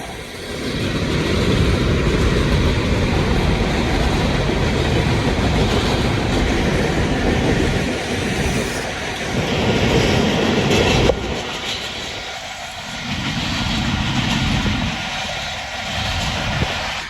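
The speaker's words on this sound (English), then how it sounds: "What if that's the same train?" A train rumbles past on the rails for a long stretch, a loud continuous roar with clattering wheels that shifts and eases toward the end.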